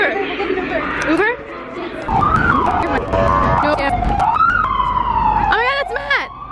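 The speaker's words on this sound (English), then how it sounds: "Oh wait, no, that's ambulance." An ambulance siren wails and yelps along a busy New York City street, rising and falling loudly and close, with people chattering over it and traffic noise around.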